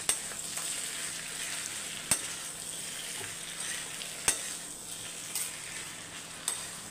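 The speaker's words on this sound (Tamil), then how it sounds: "சட்னி ஒரு பக்கம் தாளிச்சிக்கலாம்." Spices crackle and sizzle in hot oil as a tempering for chutney is made in a pan, with steady frying hiss and a few sharp clinks of a spoon against the pan.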